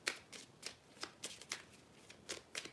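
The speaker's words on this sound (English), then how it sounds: "I am going to shuffle some Twin Flamey cards to see what that was about." Twin Flame oracle cards being shuffled by hand, a quick series of crisp riffling bursts repeating at an even, brisk pace, close and fairly quiet with no talk.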